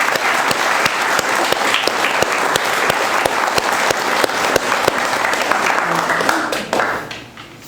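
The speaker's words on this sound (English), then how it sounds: "Do you all stand up and give them a round of applause?" An audience at a boathouse dedication ceremony at Schroon Lake applauds loudly and steadily, dense clapping filling the room for about seven seconds before tapering off abruptly at the end.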